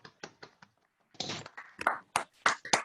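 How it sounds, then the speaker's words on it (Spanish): Scattered applause from a few people in an online meeting, irregular taps and claps that come individually at first and then thicken into a short burst of clapping, close and unmixed. "si desbloqueamos los micrófonos, un aplauso para Matías y el equipo"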